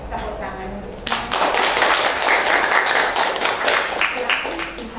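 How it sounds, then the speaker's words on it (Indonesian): Students in a classroom clap together, a short talk-filled moment giving way to a second or so of quick, scattered hand claps that swell into steady group applause, fairly close and lively, with voices mixed in. "Ya, tepuk tangan untuk semua."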